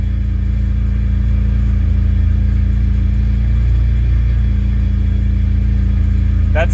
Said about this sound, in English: and it's finally idling now